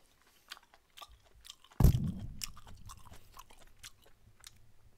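Close-up eating of spicy grilled beef intestines in a mukbang: one loud crunchy bite, followed by steady wet chewing that fades slowly, with no speech.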